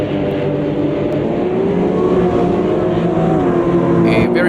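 A Porsche Cup race car brakes hard into a sharp turn on the Long Beach street circuit, its loud onboard engine note dropping and droning steadily, close and continuous throughout.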